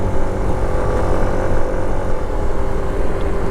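Motorcycle engine running steadily at close range while riding up to park, a continuous broadband rumble with no speech over it.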